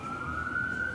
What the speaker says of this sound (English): Bless that siren that is passing by